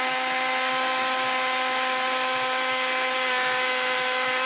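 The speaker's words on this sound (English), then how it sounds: "Now I'm going to add that pump back on so I can get a view of both of those." A windshield washer pump in an inline HHO setup runs steadily, giving a constant electric whine with a faint pulsing buzz underneath, close and unchanging throughout.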